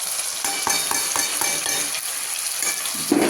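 Spinach dropped into a hot pan while making methi palak pasinda sizzles and crackles steadily, with a few stirring scrapes and utensil clinks close by.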